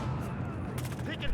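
Dense gunfire in a Battlefield Hardline multiplayer match, with overlapping shots and rapid bursts rattling continuously at moderate level, blended with busy battlefield noise.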